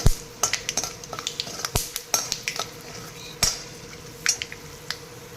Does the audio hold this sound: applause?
no